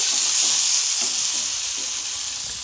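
Frying over a medium gas flame for a dhaba-style mushroom gravy produces a loud, continuous bright sizzle with faint stirring scrapes underneath, close up and steady, with no one speaking.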